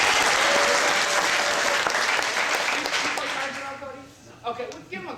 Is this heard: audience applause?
yes